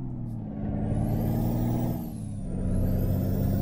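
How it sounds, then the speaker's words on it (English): A powerful 600-horsepower truck engine, the Optimus Prime truck mod in Euro Truck Simulator 2, drones steadily close by with a deep rumbling tone and a high whine that rises and dips as it drives on, with no talking. "It is a pretty powerful engine, this one."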